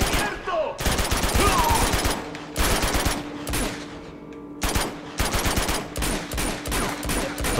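Rapid gunfire in the action video game Uncharted 2 rattles in several dense automatic bursts with short gaps, loud and close, with some talk mixed in.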